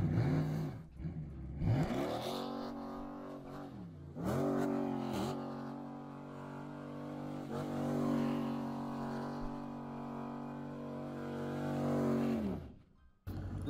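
A car engine revs and strains in repeated rising and falling surges while the car attempts a clumsy donut, loud and close, with brief drops between bursts.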